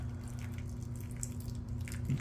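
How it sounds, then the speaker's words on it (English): Water trickles and drips onto dry potting soil in plant pots, soft and close, with faint patters and a low steady hum beneath. "I'm going to give it some water now because this is so"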